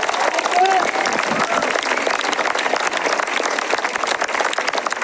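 Audience applause fills a political campaign rally in Aniane, France, a steady dense clapping of a crowd that holds for several seconds, with a brief voice or cheer near the start.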